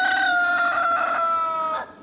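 A rooster lets out one loud, close cock-a-doodle-doo, a strained, drawn-out crow lasting about two seconds that cuts off abruptly, with no voices over it.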